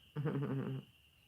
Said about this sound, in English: Can y'all hear my frogs in the background?